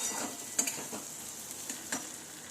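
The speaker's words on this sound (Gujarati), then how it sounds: "ડુંગળી ટામેટાં સોફ્ટ થઈ ગયા છે" Steady sizzling of onions and tomatoes sautéing in a pan for sambar, with a few soft scraping stirs of a spoon breaking through the hiss.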